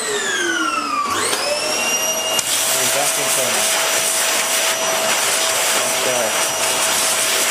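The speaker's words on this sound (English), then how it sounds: "will come up in the vacuum cleaner" A vacuum cleaner runs over a slot car track, a loud steady whine that pitches up as the motor spins up, then holds a continuous roar with shifting airflow as it moves along the track.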